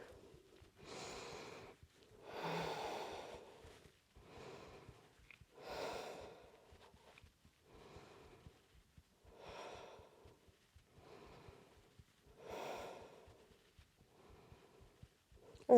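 Slow, deep yoga breaths during a vinyasa balance sequence, each long inhale or exhale drawn audibly through the nose and mouth, close and steady, repeating about every one and a half seconds with no talk.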